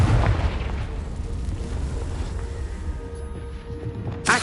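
A Confringo blasting spell erupts in Hogwarts Legacy: a heavy, close boom at the start that rumbles and fades over a few seconds, followed by a sharp burst near the end.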